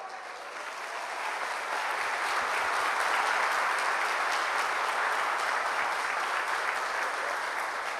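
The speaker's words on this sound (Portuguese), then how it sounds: "Então glória a Deus e aplaude o Senhor." A church congregation applauding, the clapping swelling over the first second into a loud, dense, sustained roar of many hands that holds steady to the end.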